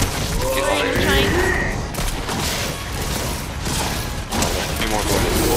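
Fortnite gunfire rattles in a dense, loud stream of rapid shots and booms that barely lets up, with a player's voice talking over the shooting.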